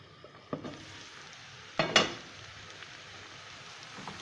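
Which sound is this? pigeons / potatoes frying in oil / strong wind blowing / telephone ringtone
potatoes frying in oil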